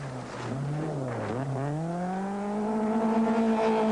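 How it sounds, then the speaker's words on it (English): An Opel rally car drifts through a bend on a 1980 Welsh rallysprint stage, its engine note dipping then climbing steadily as the driver accelerates out, a strong close roar with no talk. "Drifting the Opel round beautifully"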